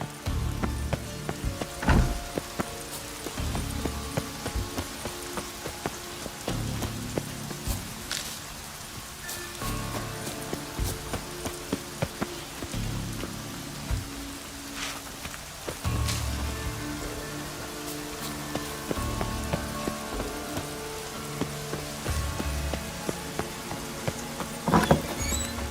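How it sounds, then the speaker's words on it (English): Rain falling in The Witcher 3 on Skellidge, a soft steady patter of drops on surfaces with scattered sharper taps and clicks, at a low level without speech for about twenty-five seconds. "Looks like rain."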